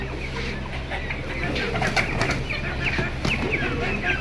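A fancy pigeon, kept in a hobbyist's collection, flutters its wings in short bursts and gives low coos close by, with faint background voices.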